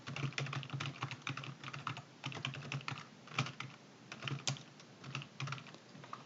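Fingers type data into an Excel spreadsheet on a computer keyboard, producing quiet, close keystrokes in quick irregular bursts with short pauses, with no voices.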